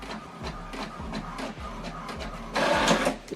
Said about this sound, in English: Now what it's doing now is printing the welcome information that I sent to this printer.